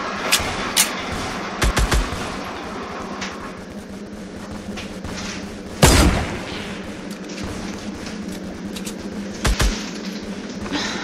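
Gunfire in a Roblox shooter game, a steady rattle of rapid shots with a few louder bursts and one heavy blast standing out, close and loud.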